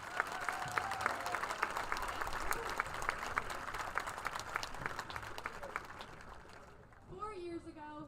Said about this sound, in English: join us in a round of applause